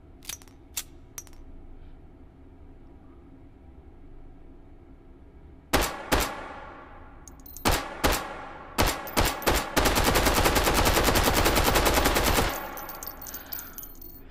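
Quiet stretch, then sharp gunshots in the game Hot Dogs, Horseshoes and Hand Grenades: a few single shots followed by a sustained burst of rapid automatic fire, loud and close.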